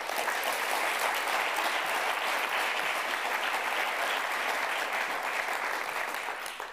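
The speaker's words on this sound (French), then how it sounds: "Merci de l'applaudir" A large audience applauds at an eloquence contest final, a dense, even wash of clapping that holds loud and steady throughout before easing slightly at the end.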